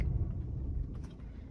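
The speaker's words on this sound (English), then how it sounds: "the engine kind of sounded like it was stalling then" A 2012 BMW 118i M Sport with a 2.0 engine and Steptronic automatic, which keeps cutting out, gives a faint, low idle rumble that sags and wavers as if about to stall while braking.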